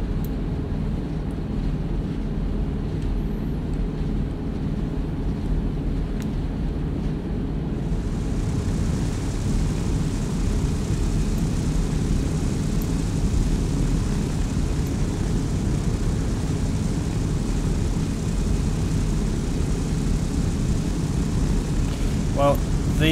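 AC-130 Spectre gunship in Arma 3 (USAF mod), a steady loud propeller-engine drone filling the whole stretch, with a brighter wind-like hiss joining partway through and talk running over it.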